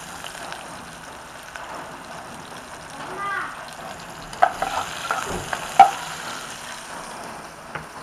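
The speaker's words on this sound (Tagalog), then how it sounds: "Sigisa natin sibuyas." Chopped onions are sautéed in a pan for a squash and moringa vegetable dish, with a soft, steady sizzle and stirring. A few louder scrapes come late in the clip, and a voice speaks faintly in the background.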